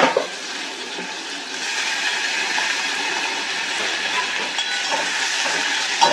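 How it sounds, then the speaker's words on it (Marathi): Chopped cabbage and tomato hit a hot tempering of oil with turmeric for cabbage varan, setting off a loud, steady sizzle and hiss that holds throughout, with brief sharp crackles at the start and end. "कापून घेतलेली कोबी आणि टोमॅटो घालायचा आहे."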